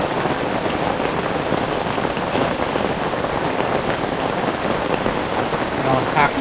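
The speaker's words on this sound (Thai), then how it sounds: "ฝนก็ยังตกอยู่" Heavy rain pours at night in a forest, a constant, dense hiss of drops striking nearby surfaces without pause, steady and loud throughout.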